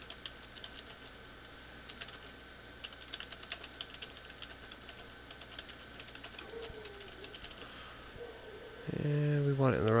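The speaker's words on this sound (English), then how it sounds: "for Bob, since he is a publisher, he's going to write his own article. We'll title it Testing for the Publisher" An article title is typed on a computer keyboard as a steady stream of light, close key clicks under a quiet room hum, ending in a short rising electronic tone.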